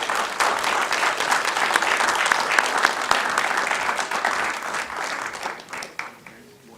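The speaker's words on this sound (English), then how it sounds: "So another round of applause for our finalists here." An audience at a school district board meeting applauds student finalists, a loud, dense burst of clapping that gradually thins and fades toward the end.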